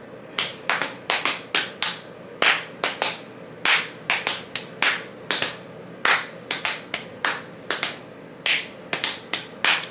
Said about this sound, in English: That's why I'm so good at clapping.